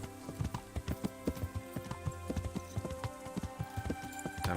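Horse hooves in the Kingdom Come video game clip-clop in a steady, brisk rhythm on the road, close and clear, with no talking over them.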